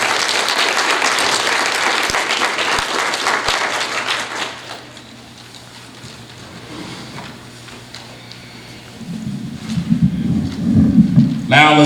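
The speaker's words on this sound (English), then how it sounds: "let's give all the speakers from the primary group a round of applause" An audience at a school MLK program applauds the student speakers loudly for about four seconds, then the clapping dies away into quiet room noise, and low rumbling sounds and movement rise near the end.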